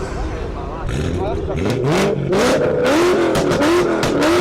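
A loud BMW E92 M3 V8 engine revs hard, pitch sweeping up and down as it accelerates close by, with voices talking underneath.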